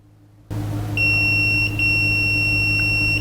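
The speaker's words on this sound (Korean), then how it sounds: "도통은 신호음으로 알려줍니다" A sharp, steady electronic beep from a multimeter's continuity test switches on and holds a high pitch, dropping out briefly once before resuming, over a low background hum.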